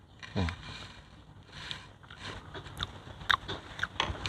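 Chewing and biting on a spicy Thai red ant egg salad (koi khai mod daeng) with toasted rice powder, a few soft, close crunches and mouth sounds spread over a quiet background.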